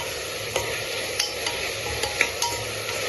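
Onions and green chillies sauté in oil for a beef curry, giving a steady close sizzle with sharp scrapes of a spoon stirring the pan every half second or so, and no voices.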